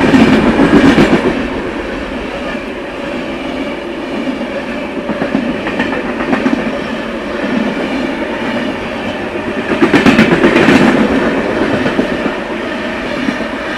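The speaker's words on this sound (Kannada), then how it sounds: "ಇದಿದ್ದು ಪುಡುಚೇರಿಯಿಂದ ಯಶವಂತಪುರ್ಗೆ ಹೋಗುವ ವೀಕ್ಲಿ ಎಕ್ಸ್ಪ್ರೆಸ್ಸು" Puducherry–Yesvantpur weekly express passing on the adjacent line at a railway station, a loud, continuous rumble of wheels with rhythmic clickety-clack beats that swell around the start and again near ten seconds.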